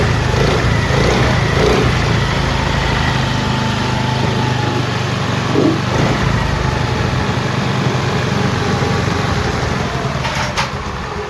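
A Honda Activa 5G scooter engine, running as a half-engine setup, idles steadily and close, giving a buzzing, slightly rattly drone with small fluctuations throughout.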